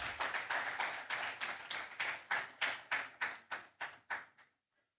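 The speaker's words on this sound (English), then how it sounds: "May we have a warm round of applause," An audience applauds at a stage event, a dense burst of clapping that thins into a dozen or so distinct, evenly spaced claps before stopping abruptly.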